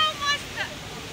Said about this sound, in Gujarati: જો આવી રહ્યો વોટરફોલ